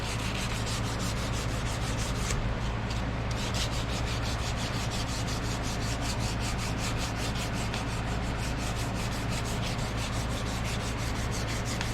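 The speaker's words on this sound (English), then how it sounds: "Alright, let me get some sandpaper and do it the proper way." Hand sanding a knife blade with 320 grit sandpaper, a steady continuous rasping rub with quick repeated back-and-forth strokes, close and alone without any talk.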